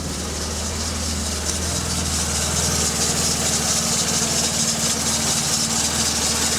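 A Mk2 Golf with a 1.6 EZ engine idling just off the choke, a steady low hum with an even rhythmic throb, close and continuous, no talk.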